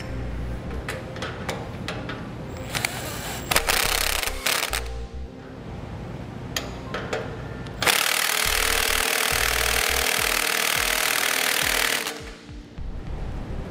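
A power tool tightens the nut on a trailer axle bolt during a Dexter idler axle beam installation, giving loud rattling impact bursts broken by short gaps, with a long sustained run near the end.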